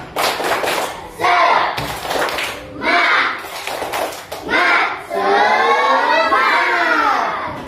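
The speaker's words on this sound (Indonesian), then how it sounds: "Oke, kita mulai tepuk semangatnya ya. Tepuk semangat." A classroom of students performs the tepuk semangat rhythmic clapping chant, with loud bursts of claps and shouted chanting in several phrases, separated by brief pauses and ending in a longer sustained group call.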